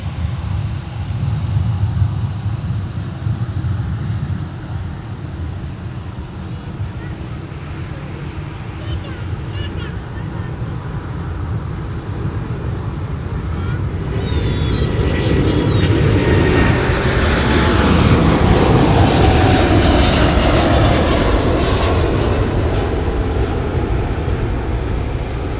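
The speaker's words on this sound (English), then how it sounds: "Delta 10 Heavy now departing to London Heathrow with the A330neo" Delta Airbus A330neo jet departing MSP airport in winter for London Heathrow, a loud jet roar that swells and rises as the aircraft accelerates for takeoff, with voices talking over it.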